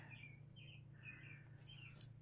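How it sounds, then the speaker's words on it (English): A small pet bird chirps faintly in a series of short, repeated tweets over a low steady background hum. "My little bird came back."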